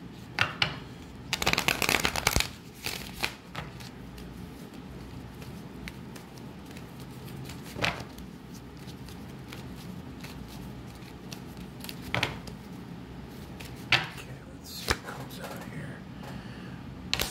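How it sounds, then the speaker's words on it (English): Tarot cards riffle and snap in a quick flurry, followed by scattered soft taps and shuffles, close by against a quiet room. "Just get one more good shuffle"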